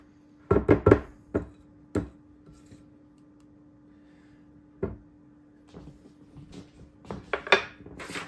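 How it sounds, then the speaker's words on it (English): A spoon knocking and scraping against a bowl while mixing sourdough cookie dough for oatmeal white chocolate cookies, with irregular sharp clacks in small clusters separated by quiet pauses, close and fairly loud. "I'm going to go ahead and mix this in before I start putting in the flour and the oats"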